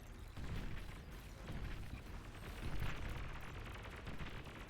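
A Demon Dread detonates in the strategy game Beyond All Reason, setting off a rolling series of heavy explosions and booms that swell and thunder continuously for several seconds.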